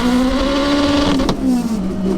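A turbocharged, all-wheel-drive Honda DC5 Type R with a sequential gearbox launches hard, its engine holding a loud, steady high rev, then dropping sharply with a shift and climbing again, close and continuous.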